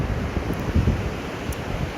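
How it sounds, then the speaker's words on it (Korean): Sea waves roll in at Yeongildae Beach on Korea's east coast on a day of high surf, a steady rumbling wash mixed with strong wind buffeting the microphone, with no talk. "저기 뒤에 바다 봐, 파도."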